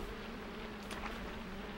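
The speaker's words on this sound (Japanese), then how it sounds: "またハエの音がする。" A housefly buzzes in the side-scrolling game LIMBO, a faint, steady insect drone with a brief louder swell near the middle, heard alone over a low ambient hum.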